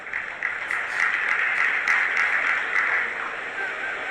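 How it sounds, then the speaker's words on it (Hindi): A seated audience at a Hindu religious discourse claps together, a soft, continuous spread of hands from a crowd heard at some distance, with a few sharper claps standing out. "जिनको समझ आई उनने ताली बजाई"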